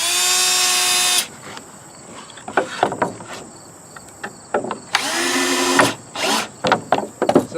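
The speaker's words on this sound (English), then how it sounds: "put in another screw here and then we should be good" A power drill drives screws into a wooden hen nest box, with two loud whirring bursts at the start and middle separated by clattering handling knocks and taps close by.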